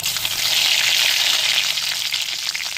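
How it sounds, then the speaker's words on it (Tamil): Mustard seeds and curry leaves hit hot oil in a pan for a dry fish gravy, filling the space with a steady, bright, close sizzle and crackle that carries on without break. "எண்ணெய் சூடாயிருந்தாங்க கடுகு போட்டுக்கிறோம் ரெண்டு கருவேப்பிலை போட்டுக்கிறோம்"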